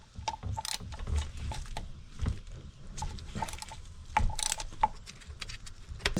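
A ratchet clicks in short irregular bursts while a 10mm bolt is removed from under a 1999 Honda Civic engine during thermostat and spark plug work, close and fairly quiet with small metallic knocks between strokes.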